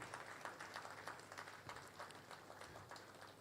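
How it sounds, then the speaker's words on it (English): Faint, steady applause from an audience at an appreciation evening for retired stock exchange directors, honouring a guest: a continuous patter of many hands clapping at a distance. "Please, let's put our hands together for Dr. Mrs. Ndi Okereke Onyuke, OON."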